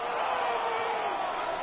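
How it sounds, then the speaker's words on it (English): A stadium crowd in the Madden NFL video game roars with a steady, dense wash of cheering and noise, moderately loud and continuous, with no distinct voices standing out. "This crowd into it now as we get to third down."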